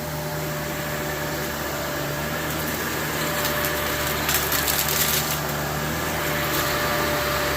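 A Shark PowerDetect vacuum cleaner runs on low-pile carpet with a steady, loud motor whine and airy roar. Its pitch and rush swell slightly as it passes over the carpet.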